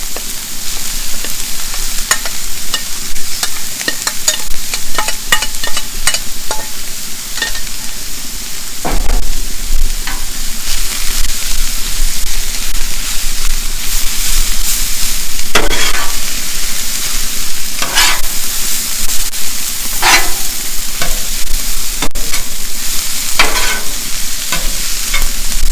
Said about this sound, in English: Ready now to go ahead and add my rice to the veggies.